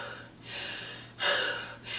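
A voice imitates the gasping, struggling breaths she took during labor, three sharp, breathy inhalations, close to the microphone with no words spoken.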